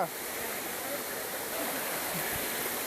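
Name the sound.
waterfall on Netravati trek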